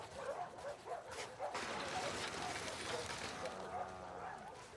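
A dog in The Last of Us Part II video game gives a run of short yips, barks and whimpers near the listener, excited and repeated, with faint background noise.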